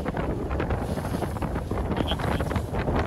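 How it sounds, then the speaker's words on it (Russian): Strong wind buffeting the microphone on a boat in the Gulf of Finland, a steady, loud broadband roar with gusty rumbling throughout and no voices. "какой сильный ветер"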